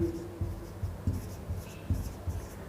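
A pen scratches over paper in short, rhythmic strokes while maths is worked out during a class-10 lesson on Euclid's division algorithm; the writing is close and fairly soft.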